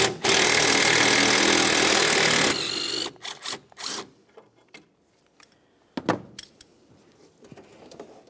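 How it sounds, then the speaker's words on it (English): Ratchet or wrench work on a 10mm bolt at the horn assembly bracket of a 2002-2009 Chevrolet Trailblazer: a loud continuous whirring burst at the start, then scattered metallic clicks, clinks and tool rattles close by. "You'll find a 10mm headed bolt. Let's remove that so we can separate the horn assembly bracket from the body."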